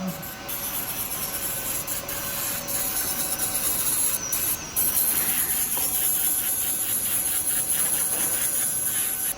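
Steady close rubbing and whirring of a dental prosthesis being polished in a clinic lab, continuous and even throughout, with a thin high tone above and faint background sounds.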